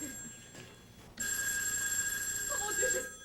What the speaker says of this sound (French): Oh, le téléphone.